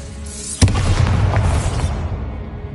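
A Bombarda blasting spell in Hogwarts Legacy goes off in a sudden deep boom, followed by a rumbling, crackling tail that slowly fades over the next two seconds.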